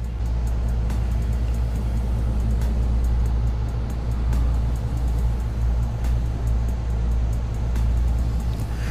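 In the CSR2 racing game, an electric race car drives with a steady, loud, even hum. The whirring drone holds constant with no breaks and no voices.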